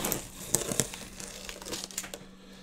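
Someone opens a large cardboard box and handles crinkly packaging, making close, irregular rustles and crackles with a few sharper crunches.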